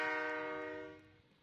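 A train horn from a car crash video game blares loud and steady, a single sustained harmonic blast that fades out after about a second.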